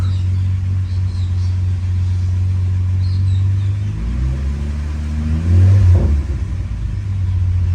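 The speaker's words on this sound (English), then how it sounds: "there's certainly a knock, unfortunately. It's some sort of rattle." A neglected skid car's engine at operating temperature, knocking and rattling, idles steadily then revs up briefly with a rising rumble through the exhaust before dropping back to idle.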